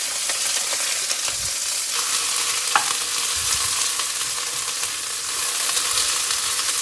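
Onions and green chilies frying in hot oil while being stirred, a steady close sizzle with occasional scraping and spoon knocks in the pan, and no talking.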